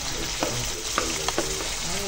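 Garlic sizzling in hot oil while sautéing for ginisang ampalaya, a close steady crackle with scattered spatters and a few scraping stir sounds.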